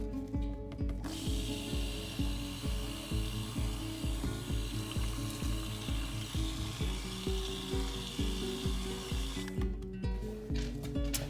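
A blender mixes coconut oil soap batter with fragrance oil, a steady loud mechanical whir with a rapid rhythmic chopping pulse, running continuously and close by with no talk.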